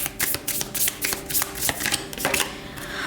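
Tarot cards being shuffled close by during a reading, a quick run of crisp riffling flutters and soft slaps in irregular bursts, with no talking over them.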